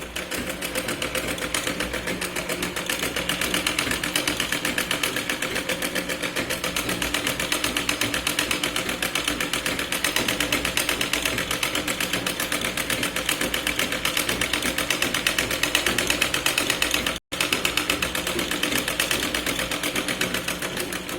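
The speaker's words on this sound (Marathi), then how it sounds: "आपल्याला साडेवाले फॅब्रिकपासून इथे दाब शिलाई लावून घ्यायची आहे पूर्ण" A sewing machine runs continuously, top-stitching sari fabric onto the sleeve of a katori blouse: a steady, close mechanical whir with rapid needle chatter, pausing only for an instant near the end.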